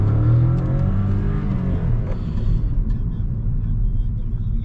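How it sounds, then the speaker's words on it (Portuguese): A VW Virtus 1.0 TSI fitted with a downpipe exhaust revs loudly up close, a deep throaty rumble that climbs and then falls back to a lower burbling drone. "Vamos abaixar o vidro para vocês ouvirem como que tá o ronco dele"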